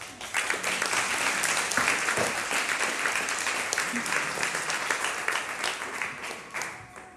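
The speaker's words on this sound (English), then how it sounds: "Can we have another round of applause for Debbie, please?" A large audience claps and applauds steadily for several seconds, a dense wash of hand claps that fades out at the end.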